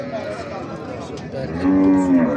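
A single low, drawn-out moo from a dairy cow rises clearly over a busy background murmur, close to the listener.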